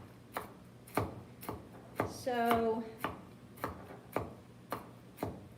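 A hand-operated nut chopper crunches walnuts in a steady rhythm of sharp thuds, roughly one every half second, close and fairly loud, with a brief bit of speech in between.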